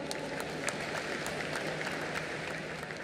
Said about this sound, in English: A huge round of applause for Nadav Lapid